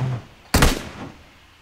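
A single sharp rifle shot with no attachments, fired at a target roughly 250 to 300 metres away in PUBG Mobile, cracks once and decays quickly into a faint tail over the game's low background hum.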